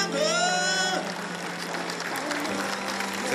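Applause from a crowd at a professional baseball event as the team captain is welcomed, a loud burst of clapping with a held tonal note over the first second, then steady broadband clapping continuing under a low hum.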